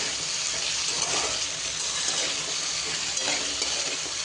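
Sweet potato slices sautéing in ghee make a steady, dense sizzle that holds evenly throughout, close and moderately loud, with faint soft stirring movements and no speech.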